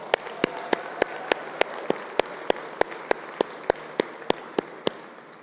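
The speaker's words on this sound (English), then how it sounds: "So one more time, let's give Team NLC a big round of applause." At a city summit in Salt Lake City, crowd applause for Team NLC is topped by a rhythmic run of sharp, evenly spaced loud claps, about two per second, over softer steady clapping.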